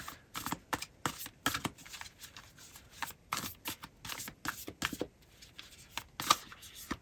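A deck of archetype cards is shuffled by hand close up, giving quick flurries of riffling and slapping card sounds in uneven bursts with brief pauses between, quiet and without talk.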